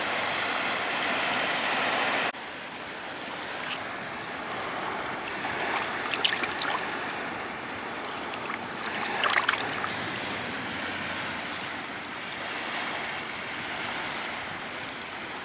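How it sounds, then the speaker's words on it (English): A small mudlarking find is rinsed in River Thames water, a soft, steady trickle and sloshing at the shore with brief splashy bursts, moderately quiet and without talk. "Let's go and give it a little rinse."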